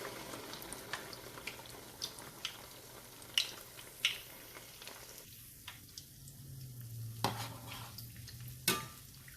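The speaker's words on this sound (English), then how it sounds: "Once we make the ball, we can keep it in the oil." Balls of bread and banana dough frying in hot oil, a steady low sizzle and bubbling with scattered sharp pops and clicks, fairly quiet and close, with no talking.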